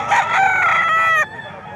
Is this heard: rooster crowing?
yes